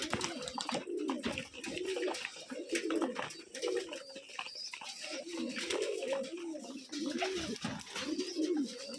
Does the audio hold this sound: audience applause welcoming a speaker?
no